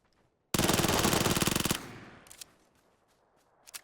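Micro Uzi submachine gun firing a rapid full-auto burst in PUBG on console, loud and dense for just over a second, then fading into a few faint scattered shots.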